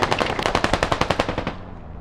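Rapid automatic gunfire in the video game Squad, a loud burst of about fifteen evenly spaced shots over roughly one and a half seconds, then a fading tail.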